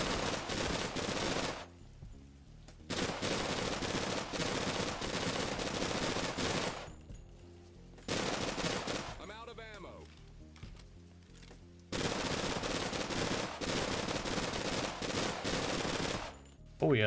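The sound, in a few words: submachine gun fire in a video game, Persist Online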